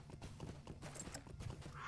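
Horse hooves from riding in Lord of the Rings Online, a quick continuous clip-clop of galloping steps, fairly faint and steady throughout.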